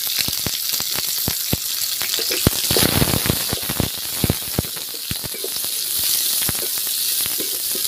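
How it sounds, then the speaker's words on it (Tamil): Chopped onion and dried red chillies fry in hot oil with a steady, dense sizzle, punctuated by sharp crackles and stirring clicks throughout, close and fairly loud. "வெங்காயம் நல்லா வதங்கிருச்சு."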